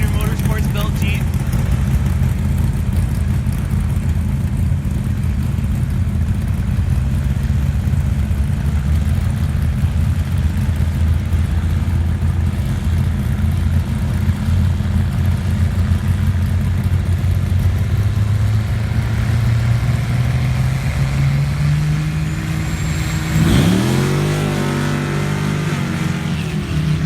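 A drag-racing Jeep engine accelerates down the strip at a Top Eliminator qualifying event, a loud, sustained roar rising steadily in pitch before cutting off sharply near the end, with a commentator talking over it.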